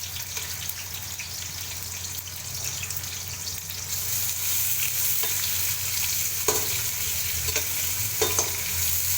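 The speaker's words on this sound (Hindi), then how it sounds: "और ये बड़ा सा प्याज था 1 अदद, उसको लच्छेदार काटा है, वो डालती हूँ।" A large sliced onion fries in about a cup of oil, a dense steady sizzle with occasional stirring clinks and knocks, continuous and close throughout.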